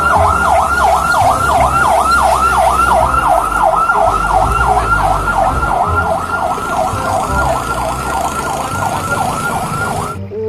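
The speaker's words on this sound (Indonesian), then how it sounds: "Ini ada mobil pemadam kebakaran." A toy fire truck's siren wails loud and close, in a steady rapid up-and-down rhythm that runs unbroken for about ten seconds, then cuts off abruptly.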